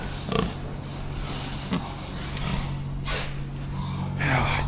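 Pigs on an organic farm in winter grunt and snort several times against a steady low hum, the snorts short and fairly close, with a voice briefly audible.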